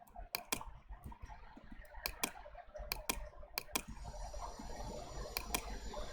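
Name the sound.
mouse clicking on a computer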